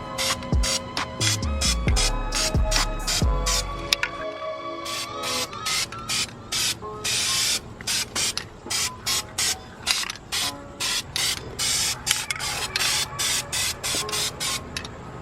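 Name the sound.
spray painting Honda Prelude exhaust manifold silver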